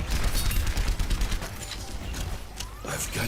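Rapid gunfire and weapon effects rattle through a community match of Overwatch, a dense, continuous barrage with sharp repeated bursts that stays loud throughout, with voices mixed in.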